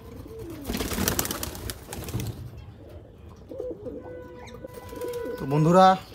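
Pigeons coo at close range, and the calls swell loudly near the end. Earlier there are bursts of broadband noise and quieter bird sounds, with no one speaking.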